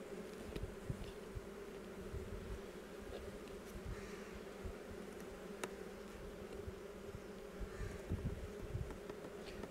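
Honey bees buzz around a hive in July, a soft, constant drone of many insects up close, with a few individual bees whizzing past the microphone.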